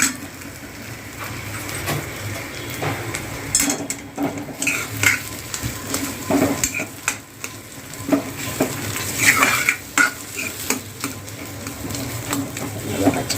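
Potato bhaji stirred into fried garlic in a pan: loud, continuous sizzling with scraping and clattering strokes of a spoon against the pan, stirring rising and falling in bursts, close up and with no talk over it.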